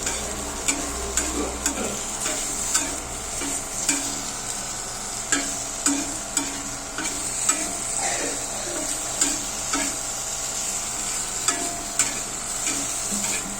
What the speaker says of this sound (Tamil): பன்னீர் டிக்கா இந்த மாதிரி ஃப்ரை பண்ணுவோம்